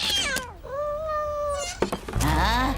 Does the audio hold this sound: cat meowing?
yes